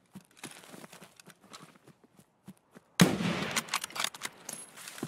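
Gunfire bursts out in the Escape from Tarkov video game, a sudden loud volley of sharp shots after a stretch of quiet footsteps and movement.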